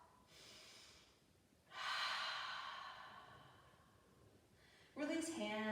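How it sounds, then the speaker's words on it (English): Deep cleansing breath during a hip mobility yoga session: a soft nasal inhale, a long audible exhale, then an open-mouthed breathy ha, close and quiet with no words. "Let's take a cleansing breath. Inhale through the nose. Exhale with that big ha."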